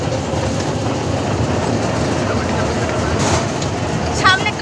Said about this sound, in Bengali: ট্রেন চালু হয়ে গেছে।